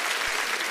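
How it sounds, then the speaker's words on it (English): An audience applauds at a live talk show, a short burst of dense, steady clapping that fills the moment. "Well, that's worth a round of applause."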